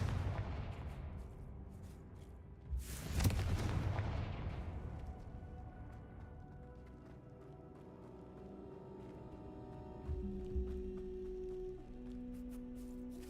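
A fire spell explodes in the Hogwarts Legacy video game, one deep rumbling blast that rolls and fades over several seconds, followed by quieter game ambience and a later low thud.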